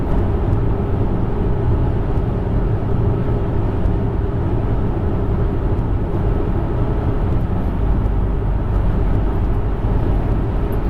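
A 2016 Volvo XC90 at 110 km/h, with steady loud tire road noise and a deep rumbling drone inside the cabin that stays constant throughout without a break.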